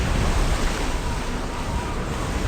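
Ocean surf rolling in Silent Hunter 5, a steady broad wash of waves at sea, continuous and fairly loud with no voices over it.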